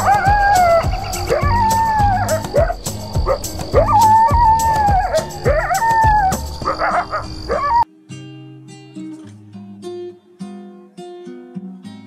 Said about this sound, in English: And the sound of the jackal is...